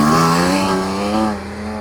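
A German car climbing the Brooklands Test Hill, its engine note a strong steady harmonic drone that holds pitch briefly, close and loud, then fades slightly as it moves off.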